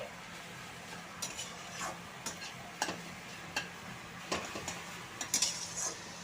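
Boiled potato being mixed in a pan, heard as soft intermittent scraping and tapping of a utensil against the pan over a quiet, faint background sizzle.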